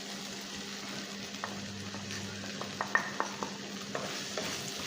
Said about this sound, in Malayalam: ഇതിൻ്റെ പച്ച ചുവന്ന് മാറുന്നിടം വരെ വഴറ്റി കൊടുക്കുക